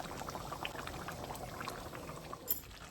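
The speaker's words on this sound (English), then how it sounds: "can you see it's boiling away?" Chicken aloo curry with water added bubbling steadily in a pot over low heat, a soft continuous simmer with small pops, close by and fairly quiet.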